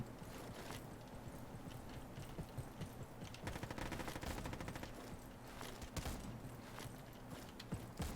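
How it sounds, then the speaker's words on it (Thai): Rapid gunfire in the Roblox shooter Frontlines crackles continuously in dense bursts over a steady game background, fairly distant and busy rather than close and isolated. "เอ๊ะเหมือนเขายิงอยู่ตรงนู้นปะ"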